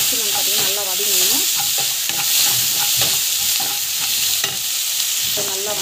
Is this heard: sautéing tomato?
yes